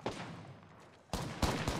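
Gunfire in the Apex Legends battle royale game, loud sharp bursts at the start and again near the end with a duller lull between.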